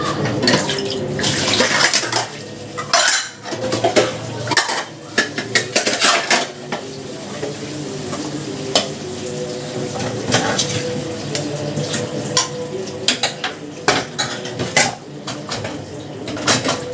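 Dishes, glasses and cutlery clatter and clink through a kitchen sink wash with Pril dish soap, with water running, close and busy, with bursts of heavier knocks.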